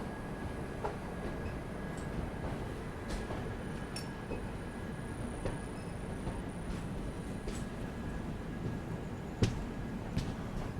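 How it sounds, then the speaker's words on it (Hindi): The Shri Shakti AC Express pulls out of Udhampur railway station, a steady low rumble of rolling wagons with faint rhythmic clicks and a sharp clack near the end, heard from inside the train. "देख लो हमारी ट्रेन डिपार्ट लेते हुए उधमपुर रेलवे स्टेशन से"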